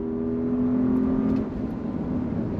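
A Porsche performance car, apparently a 992 Turbo S, runs hard on an undulating circuit, a steady loud engine drone that eases slightly past the midpoint.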